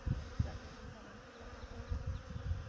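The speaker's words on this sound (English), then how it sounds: "Look at the bees." Honey bees hum faintly from an open hive on a cold winter day, a low, diffuse buzzing with occasional closer passes and light handling bumps.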